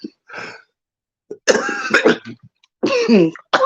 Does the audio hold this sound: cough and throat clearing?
yes